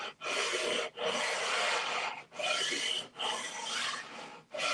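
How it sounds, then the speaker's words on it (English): A 45-year-old bass guitar neck is sanded to put a radius into the fretboard. Four long, loud, close rasping strokes are separated by brief pauses, with no talking. "I'm just going to sand"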